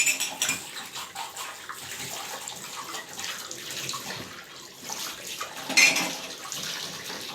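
Tap water runs steadily into a basin or tub in a home during a cold-weather morning routine, a continuous splashing hiss with small clinks of dishes, close and moderately loud, no talking.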